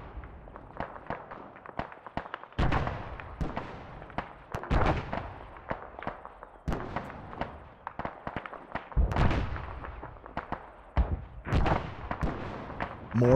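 Mortar shells exploding in the Arma-based game Antistasi give a dense, uneven barrage of sharp cracks and deep booms, some close and heavy, others quicker and lighter, with no pause for the whole stretch.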